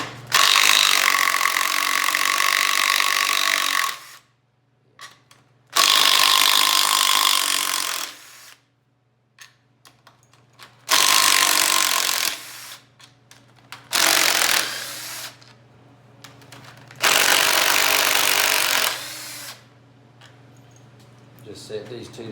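A small impact wrench hammers loudly in four sustained bursts, each a few seconds long with short pauses between, as bolts are removed from a Briggs and Stratton engine.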